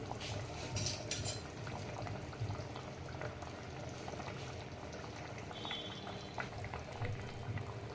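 Fish curry bubbles and simmers in a clay pot, a steady close bubbling and gentle popping that continues evenly throughout without speech.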